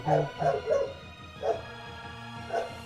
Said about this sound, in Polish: słychać psa